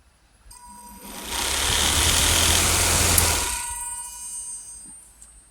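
A small electric motor directly drives the arm mechanism of an animated DIY facehugger prop and runs far too fast. It spins up into a loud, buzzing whir, holds for a couple of seconds, then winds down to quiet.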